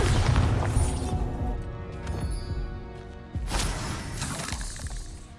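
A Bombarda blasting spell goes off in Hogwarts Legacy: a loud, shattering burst with crashing debris at the start, then a second sharp impact partway through, set over a dense game soundscape.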